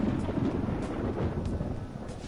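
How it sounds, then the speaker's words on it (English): A low rumble of thunder rolls steadily through an outdoor scene in the video game Persona 5 Royal just before rain begins, with a dark, continuous roar and a faint airy wash above it throughout. "It sounds like it's going to rain."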